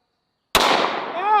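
A single sharp, close gunshot from a .38 Special revolver firing a 125 grain jacketed hollow point round, cracking loudly after silence and then ringing out briefly.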